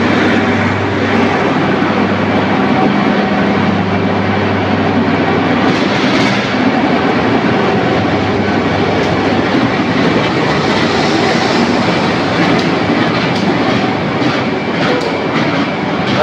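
Gajah Wong executive train departing Lempuyangan station in Yogyakarta, a loud steady rumble and engine drone that holds evenly throughout, with no talking.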